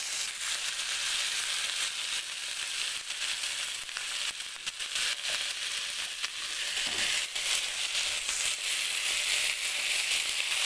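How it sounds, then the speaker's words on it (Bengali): Vegetables with a little turmeric sizzle loudly in hot oil in a frying pan, a continuous dense crackle with occasional scraping stirs, close by and uninterrupted. "সবজিটা ঢেলে দিয়েছি, এটাকে আমি হালকা একটু হলুদ দিয়ে নাড়িয়ে নেব।"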